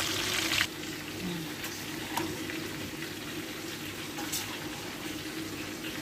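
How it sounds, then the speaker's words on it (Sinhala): Onions frying in ghee oil for koshari rice: a soft, continuous sizzle with a few faint pops and clicks, fairly quiet and without speech. "මේ විදිහට ගැම්පු තෙලේ අපේ ලුණු ටික බදගමු."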